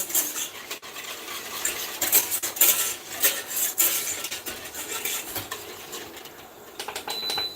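A whisk scrapes and rasps steadily around a pan as milk and roux heat toward a boil for cauliflower cheese croquettes, close and continuous with uneven strokes and small metallic clicks.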